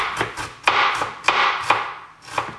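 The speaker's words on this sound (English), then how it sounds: "I'm just gonna mince this up by hand." Fresh ginger is minced by hand with a knife on a cutting board: a quick, uneven series of close, crisp chops, about seven or eight strikes, with no talking.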